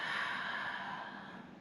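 A long, steady breath of air during a barre workout side body stretch, soft and airy with a slight fade across its length, heard close and alone without talk.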